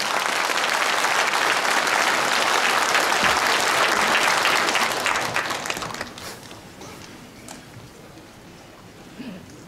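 An audience at a Jecheon gathering gives loud, sustained applause to welcome local Buddhist leaders. The dense clapping holds steady for about six seconds, then thins out and fades away.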